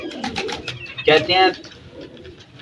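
Pigeons coo among a flock during feeding, soft low throaty calls rising briefly near the middle, heard under someone talking.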